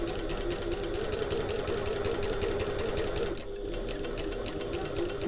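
A sewing machine stitches a backpack seam with a fast, steady mechanical chatter of the needle, close up, with a brief slowdown partway through before it resumes at full pace.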